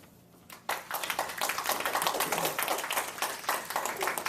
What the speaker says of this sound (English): Let's give it a round of applause to Alfredo as well.